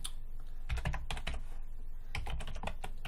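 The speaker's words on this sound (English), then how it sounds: "So we'll type some good notes in here." Quick bursts of typing on a computer keyboard, with clustered key clicks separated by short pauses, close and fairly quiet with no talking.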